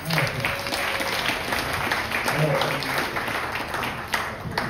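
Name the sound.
audience applause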